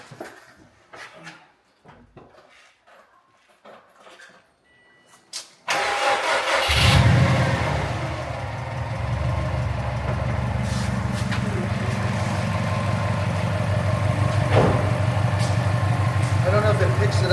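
A Subaru WRX just after an oil change fires up with a loud cranking catch, then settles into a steady, close idle. A few faint knocks and handling noises come first, before the engine starts.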